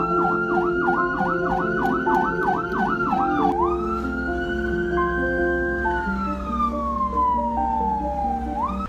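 An ambulance emergency siren in Indonesia wails loudly and steadily nearby, rapid yelping cycles giving way to a long slow rising and falling tone over constant vehicle rumble, with no talking.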